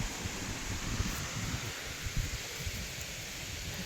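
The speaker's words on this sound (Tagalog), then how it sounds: "Laging malakas ang hangin." Strong, gusting wind rushes through a garden of chili and eggplant plants after rain, a steady broadband roar with rustling leaves and no talking.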